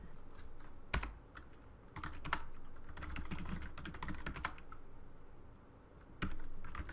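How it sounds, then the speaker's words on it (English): A command is typed on a computer keyboard to configure a Cisco network interface: clear, quick bursts of key clicks with brief pauses and a louder keystroke now and then, alone and close. "to configure auto QoS, you go to the interface, type auto QoS VoIP."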